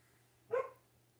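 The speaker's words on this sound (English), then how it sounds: "Any little noise outside and she barks." A single short dog bark, fairly faint and distant, over a quiet low hum.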